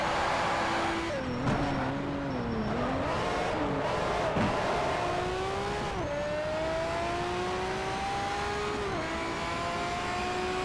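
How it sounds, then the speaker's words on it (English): A race car in the PS3 game Need for Speed: Shift slides through a corner, its engine whining and shifting pitch as it revs and eases off, with tyre squeal over a steady drone. A faint voice sits underneath. "One of these days I want to get around this section without actually"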